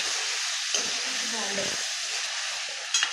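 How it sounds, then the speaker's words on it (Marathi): Brinjal fries in hot oil with a steady, close sizzle and hiss that never stops, while someone speaks briefly over it and light stirring clinks come through. "ही वांगी अशी मस्त आता तेलावर आपल्याला फ्राय करून घ्यायची"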